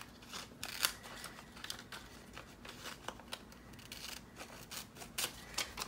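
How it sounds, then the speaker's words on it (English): Scissors snipping through 1987 Cosmo magazine paper for a collage, a quiet close series of irregular crisp cuts and paper rustles. "So I'm going to cut off this little part here."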